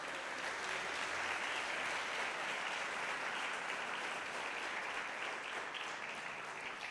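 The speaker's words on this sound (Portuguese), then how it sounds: "Dá um aplauso a Jesus, irmão" A church congregation claps for Jesus in steady, continuous applause that stays even and moderately loud from start to finish, with no voices rising above it.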